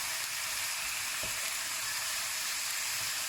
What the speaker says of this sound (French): vous snackez vos viandes comme ça jusqu'à temps que ce soit coloré et qu'il n'y ait presque plus de jus dans le fond